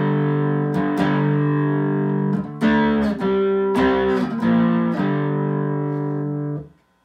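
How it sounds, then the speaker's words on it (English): Distorted electric guitar chords strummed and left to ring through a Joyo Vintage Overdrive pedal, an Ibanez Tube Screamer clone, loud and close, with gritty crunchy overdrive and no voices. "I've got a Jovio vintage overdrive, which is essentially an Ibanez Tube Screamer clone"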